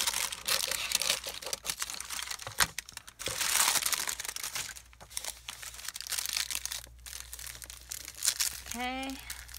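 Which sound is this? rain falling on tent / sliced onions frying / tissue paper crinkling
tissue paper crinkling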